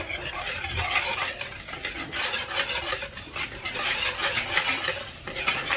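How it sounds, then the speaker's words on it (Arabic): Chocolate cake batter being mixed by hand while flour is added a little at a time: steady, close scraping and stirring of a utensil in a bowl, continuous and dense throughout. "دابا غنبقى نزيد الدقيق بالتدريج وانا كنخلط الخليط ديالي"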